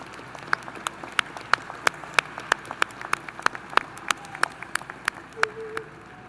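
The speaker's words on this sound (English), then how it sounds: "Graduates, let's give your family and friends a round of applause." Graduates at a spring engineering commencement ceremony clap for family and friends, a sparse, scattered applause of distinct individual claps in a large space, fairly faint, with a soft voice briefly near the end.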